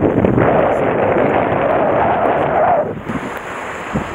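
Strong wind buffets the microphone on a fishing boat at sea off southern Boso in October, a loud roaring rush that drops away suddenly near the end, leaving faint water and movement.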